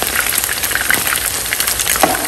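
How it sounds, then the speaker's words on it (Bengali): Chicken pieces fry in oil for chili chicken, a dense steady crackle and hiss, close and fairly loud with scattered pops and no talk. "আপনারা দেখতে পাচ্ছেন যে এইভাবে চিকেনগুলো ভেজে নিচ্ছি"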